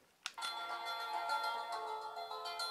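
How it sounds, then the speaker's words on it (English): A melodic guitar tune plays as an alarm sound on a Holife digital alarm clock, beginning after a short click and continuing steadily with sustained plucked tones at moderate, even loudness. "that appears to be some guitar melody, which sounds very pleasant."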